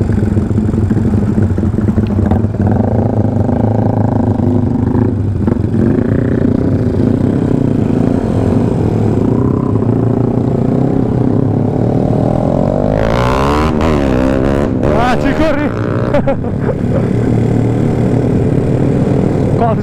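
A Yamaha Mio automatic scooter engine running and revving on a night ride, a steady loud drone with a rising rev partway through, heard up close with a vibrating, buzzy tone.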